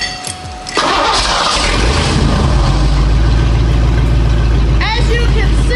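A car engine cranks and fires up loud, settling into a heavy rumbling idle through open headers with no exhaust past them, steady and close throughout.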